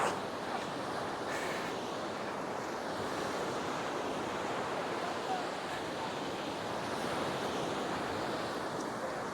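Sea waves wash steadily onto Jamtola beach in the Sundarbans, a continuous broad roar of surf with some wind buffeting the microphone.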